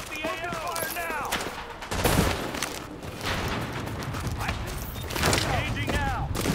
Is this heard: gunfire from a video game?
yes